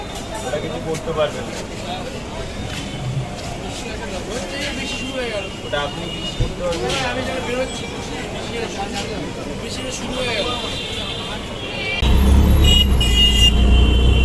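Road traffic rumbles around a moving auto rickshaw with engine noise and occasional horn toots, while people talk; wind and engine roar grow louder near the end.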